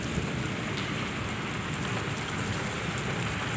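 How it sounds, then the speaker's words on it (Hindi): Heavy rain pours steadily over a city during a thunderstorm at night, a dense, continuous hiss that fills the whole stretch without any voices. "बहुत तेज बारिश जो है शुरू हो गई है।"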